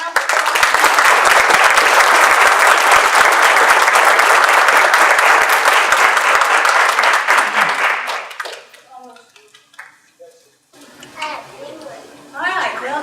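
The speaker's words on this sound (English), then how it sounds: "let's give Mike a round of applause" Audience at a university radiologic technology pinning ceremony giving a loud, sustained round of applause that fades out after about eight seconds, followed by scattered children's voices and chatter.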